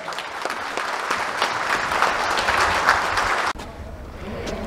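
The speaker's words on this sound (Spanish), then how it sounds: "Aplauso para el comisariado." A crowd at a community assembly in San Agustín applauds the newly named commons authority, a dense burst of clapping that fades after a few seconds into quieter murmuring outdoors.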